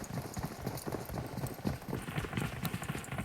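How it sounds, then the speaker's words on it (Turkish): Dense, continuous footsteps in PUBG Mobile on a new map patter rapidly and evenly throughout, loud and busy, with faint speech and game noise underneath. "Oğlum çok ses, ayak sesi var ama ya."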